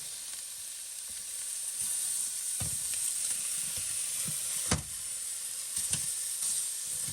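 Meat sizzles and fries steadily in a pot for Polish rosół, a continuous close hiss broken by a few sharper crackles and stirring knocks as the pieces are turned.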